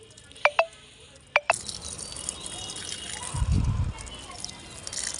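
Water from a pipe pours onto garden plants, a steady gush starting after a few sharp clicks and knocks. The stream swells briefly louder near the middle, then settles back to a constant close splashing with no voices.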